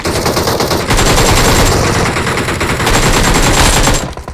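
Sustained automatic fire from a DP-28 light machine gun in PUBG, a loud continuous burst of rapid shots lasting several seconds before cutting off abruptly.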